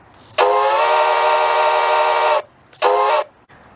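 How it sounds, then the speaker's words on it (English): Two blasts of a model steam locomotive's sound-module whistle: one long sustained chord, then a short second toot, bright and clear with quiet between. "The whistle, on the other hand, sounds as long as it's activated."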